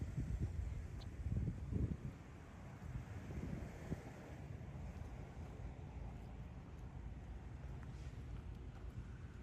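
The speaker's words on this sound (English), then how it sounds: "The ocean is very rough today." Rough ocean surf rolls along the Montauk, Long Island coast under strong wind stirred by a distant hurricane, a steady low roar with wind buffeting the microphone, slightly louder in the opening seconds.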